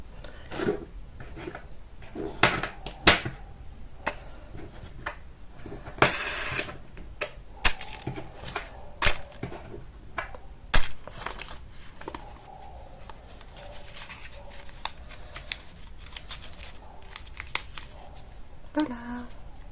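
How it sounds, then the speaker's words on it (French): Small coins dropped into a folded origami paper coin purse, giving a few light, close clinks and paper rustles scattered through, with a voice talking at times. "on peut mettre des petites pièces de monnaie à l'intérieur"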